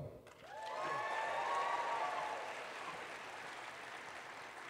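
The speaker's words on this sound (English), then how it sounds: "This is where you applaud." Audience applause at a comic convention panel, rising quickly into a broad sustained wash of clapping from a large crowd, with a few whoops and cheers riding on top before it eases slightly.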